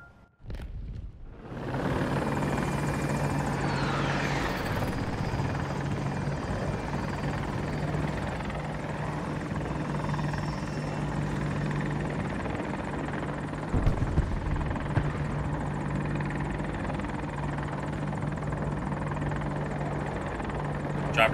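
An attack helicopter in Battlefield 2042 holds a steady, loud rotor drone with a low pulsing thrum throughout, a few faint game impacts occasionally poking through.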